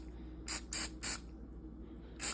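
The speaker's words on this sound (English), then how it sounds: "I'm gonna do one last spray where it brings out that golden color" A spray bottle mists peppermint dark chocolate rolls before they go into the oven: four short, sharp hissing bursts, three in quick succession and one after a pause, close by over a low hum.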